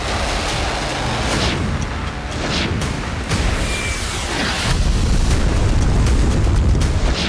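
Hezbollah rockets strike Israel in a loud, sustained roar of explosions, a continuous rumbling blast with surges and heavy low-end booms and no quiet gaps.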